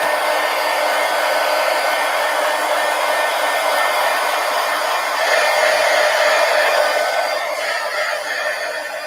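A hair dryer blows steadily on an art journal page, a loud continuous whoosh running unbroken for the whole stretch and swelling slightly partway through.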